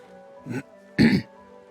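A man imitates the throat clearing of a Divinity: Original Sin II character, two short gruff rasps, the second louder and longer, close to the microphone with quiet between them.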